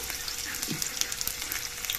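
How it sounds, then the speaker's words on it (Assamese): Onions fry in hot oil in a wok, a steady close sizzle with crackling spits and a brief soft stir, no voices. "এইফালে কেৰাহীটোত মই অলৰেডি তেল গৰম হ'বলৈ দি দিছো এতিয়া পিয়াজখিনি দি দিছো"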